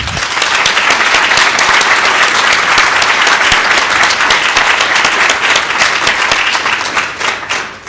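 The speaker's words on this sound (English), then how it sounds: "Can we give a round of applause?" A school board meeting audience gives loud, sustained applause for students and parents, a dense wash of clapping that holds steady for several seconds before fading at the end.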